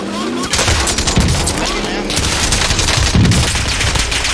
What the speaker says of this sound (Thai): ข้างหน้ามีคนยิงข้างหน้ามีคนเดียว